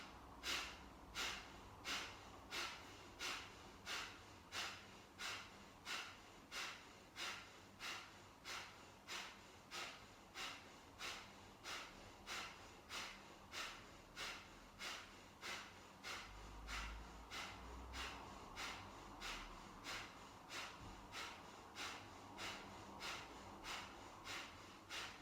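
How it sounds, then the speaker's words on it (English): Sharp, forceful breaths are pushed out in a long steady series of about thirty evenly spaced pumps during a breathing exercise, each exhale a short rushing burst, close and fairly soft. "taking half a breath in and start pumping the air out"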